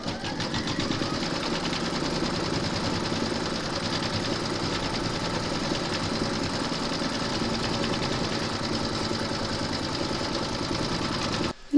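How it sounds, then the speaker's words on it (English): An embroidery machine stitches a large parrot appliqué in the hoop, a steady, close mechanical whir and rapid needle tapping that holds constant throughout. "Pop your hoop into your machine and stitch round number 3 to secure them."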